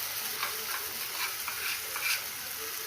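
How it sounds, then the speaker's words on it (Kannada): Mustard seeds, curry leaves, cumin and asafoetida fry in hot oil for a Marvin Kai chutney, giving a steady close sizzle with soft stirring ticks and small pops throughout. "ಸಾಸಿವೆ, ಕರಿಬೇವು, ಜೀರಿಗೆ, ಸ್ವಲ್ಪ ಹಿಂಗು ಹಾಕಿ ಚೆನ್ನಾಗಿ ಫ್ರೈ ಮಾಡಬೇಕು."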